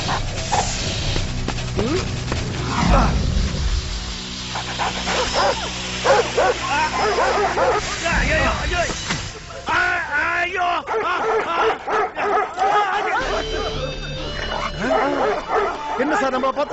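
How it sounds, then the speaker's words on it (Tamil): Three dogs bark, yip and whimper in repeated bursts over a tense scene, with people talking over them throughout. "நம்மளை பார்த்து அந்த 3 நாய்கள் முறைக்குது?"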